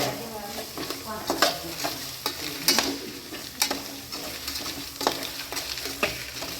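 Green peas fried in a pan for a masala curry, giving a continuous sizzle punctuated by frequent rhythmic stirring scrapes and clacks of a spatula, close and fairly loud with no speech.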